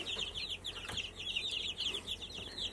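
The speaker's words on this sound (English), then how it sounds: "Got my layer chicks in there." Layer chicks peep in a brooder alongside a pet turkey, a dense, steady chorus of high, rapid chirps that runs continuously and fairly loud across the whole stretch, with one brief soft thump partway through.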